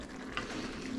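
Sausage and sage stuffing hisses and sizzles in a hot pan as stock pours in, a short, steady frying crackle with a faint splash of liquid.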